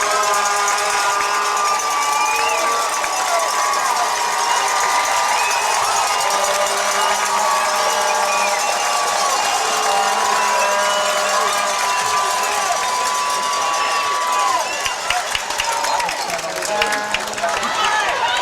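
A loud, continuous roar from a packed football stadium crowd cheering at the Winnersville Classic game, dense and unbroken throughout, with no clear talking over it.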